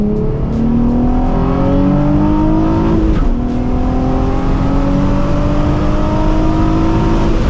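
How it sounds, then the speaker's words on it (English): A Nissan 350Z's VQ engine exhaust roars steadily as the car accelerates, rising through the revs, with a brief dip at a gear change before it climbs again. The sound is loud and close, with no talking. "it's probably one of the most recognizable exhaust notes on basically every car that's driving out there right now on the road"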